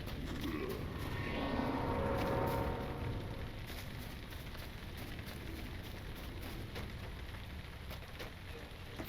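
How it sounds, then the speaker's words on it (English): Rain falling at night in the online game LOTRO, a steady hiss of drops on surfaces with a louder swell in the first few seconds, then an even, continuous patter; no speech. "Definitely a miserable night to be out in the rain"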